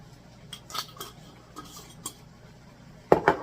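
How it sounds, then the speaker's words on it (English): A utensil stirs fresh parsley into garlic butter shrimp pasta in a skillet, giving light scattered clinks and scrapes, a couple of sharper taps of metal on the pan near the end, with no talking. "we're going to get that all stirred in there too"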